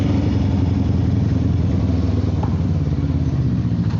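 A Suzuki Inazuma 250 motorcycle engine rumbles steadily while being ridden through narrow residential streets, a loud, continuous low-pitched drone with a faint clatter and no breaks.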